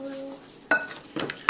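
A spoon scoops key lime pie filling from a dish, giving three short clinks and scrapes against the container, separated by brief pauses, with a faint tone at the start.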